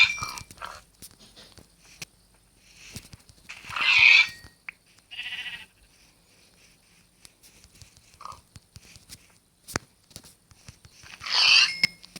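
Minecraft pigs and chickens grunt and cluck in short, scattered bursts, with a few louder calls standing out against near silence.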